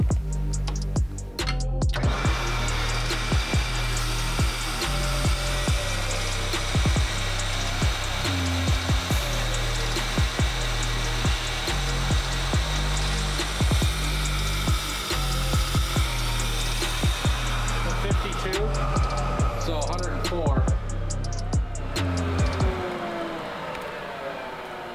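Air rushes loudly and steadily through a Can-Am 900ACE Turbo cylinder head on a flow bench, a close, continuous roaring whoosh with mechanical pulsing underneath that cuts off abruptly near the end.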